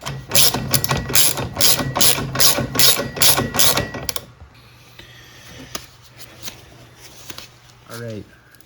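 A torque wrench clicking in a fast rhythmic ratchet burst while tightening a Polaris secondary clutch bolt, close and loud for about four seconds, then quiet handling and a short metallic click.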